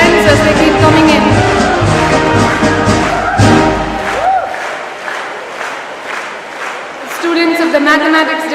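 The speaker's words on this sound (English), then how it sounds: "Kindly keep cheering your friends as they keep coming in." A crowd cheers and shouts at an outdoor graduation ceremony as Mathematics department students enter the quadrangle, a loud continuous roar with some applause and rhythmic chanting, fading briefly then swelling again.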